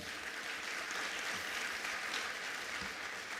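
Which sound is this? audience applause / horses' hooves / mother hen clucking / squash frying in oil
audience applause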